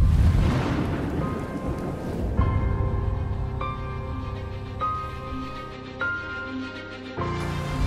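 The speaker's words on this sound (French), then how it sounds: "Oh, il pleut." Heavy rain pours steadily while a deep thunder rumble builds and rolls in the opening seconds, then fades under the downpour, which continues alongside steady, tonal sustained sounds.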